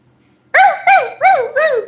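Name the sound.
small dog barking, sounds like a chihuahua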